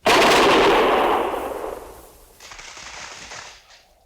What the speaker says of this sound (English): Prepare to fire. Ready? Fire!